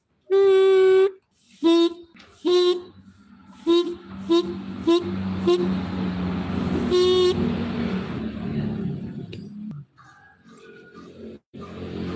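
An air horn on a Yamaha RX King motorcycle sounds after its membrane is adjusted, giving a string of short loud toots followed by a longer held blast and rough engine noise, close by.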